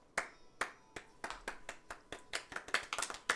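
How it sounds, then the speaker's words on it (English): A few people clap at a tabletop role-playing session, sharp distinct claps that start slow and sparse and then quicken into a faster, denser patter, close and clear with no talk. "The Tabaxis clap their mutton hands."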